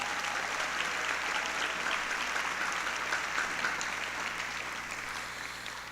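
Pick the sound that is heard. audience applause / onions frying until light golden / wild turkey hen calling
audience applause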